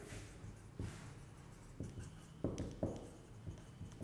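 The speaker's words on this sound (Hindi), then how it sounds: "सॉरी ठीक से लिखता हूँ" Trigonometric functions being written by hand, with soft, steady scratchy strokes and a few slightly firmer taps, faint and close with no talk.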